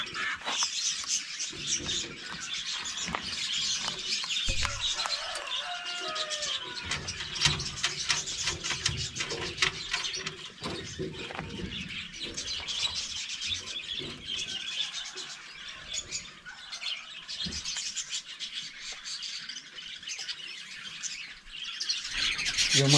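Birds chirp and call continuously around a farm with a pig shed, a dense, busy chorus of tweets close by with no speech.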